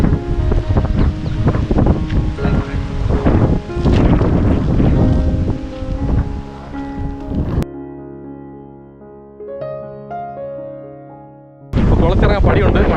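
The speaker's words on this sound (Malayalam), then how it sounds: "നല്ല കാറ്റ് കേട്ടോ" Gusty wind buffets the microphone outdoors on a walk in Kanyakumari, a loud, steady roar that drops away briefly during a stretch of music before returning.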